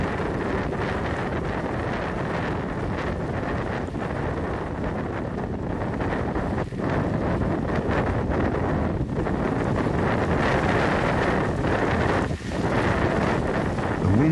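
A strong gale roars across a high mountain camp on the West Ridge, among collapsed tents. Loud, unbroken buffeting rumbles through the whole stretch with slight surges, and no voices.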